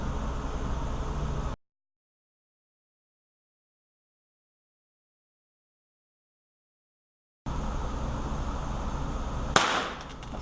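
A single sharp, loud crack from a .22 caliber rifle rings out near the end, over a steady background hiss that is broken by a long stretch of dead silence earlier.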